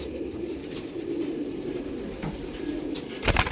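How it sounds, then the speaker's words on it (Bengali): Pigeons, a locally bred fancy flying breed, coo in low, soft, repeated murmurs, fairly close and steady, with a brief flutter near the end. "এটা খ্যাপা পায়রা বলি।"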